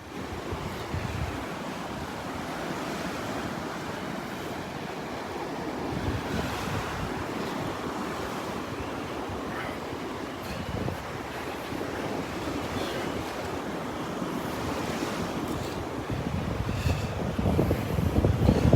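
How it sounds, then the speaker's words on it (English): Strong wind gusts at Delnor-Wiggins beach on a north wind, roaring steadily over breaking surf for the whole stretch and swelling louder toward the end, with no voices. "that wind's still coming out of the north"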